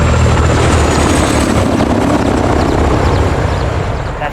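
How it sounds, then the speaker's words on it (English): A helicopter approaches in the video game Call of Duty: Modern Warfare II, a loud, steady rotor roar that fills the scene without letting up and fades slightly at the end. "Got a heli incoming."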